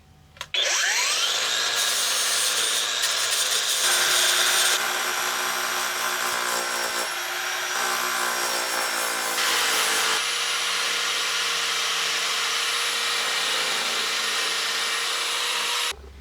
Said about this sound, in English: you can work wonders with the grinder